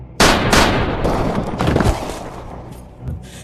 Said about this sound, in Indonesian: Tiba-tiba, Lazarus mengeluarkan pistol dan menembak si Harlan.